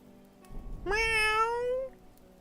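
A person imitates a cat, giving one drawn-out, rising-then-falling meow, close and clear against a quiet background.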